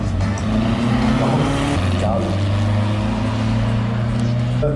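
A classic Porsche Spyder and a Toyota drag racing, engines droning loud and steady with sustained tones shifting in pitch as they run, close and continuous.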